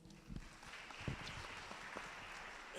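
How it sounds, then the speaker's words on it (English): Faint applause from a modest audience at a university open day as a speaker is introduced. Scattered claps sound somewhat distant and quiet. "Round of applause for her, please"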